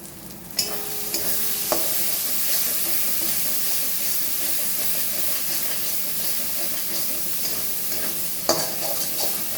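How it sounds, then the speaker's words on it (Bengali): Masala fries in oil for a duck egg curry and sizzles loudly and steadily under close, continuous stirring, with a few sharp clinks of the spoon against the pan and water hissing as it goes in. "এবার আমি জল দিয়ে দেবো, আর একটু নেড়েছেন, জল দিয়ে দেবো।"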